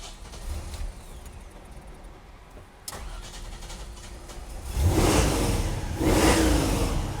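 Carter-carbureted car engine fired up after a quiet start, cranking then catching with a sharp jump in loudness and revving in swells, close and loud.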